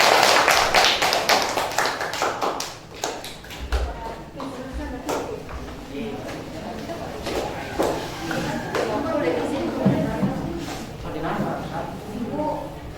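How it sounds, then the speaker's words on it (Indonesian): A classroom of students claps for a presenting group, with scattered claps and taps that start dense and thin out into sparse patters, while people talk and shuffle in the room. "silakan dulu tepuk tangan untuk kelompok 2."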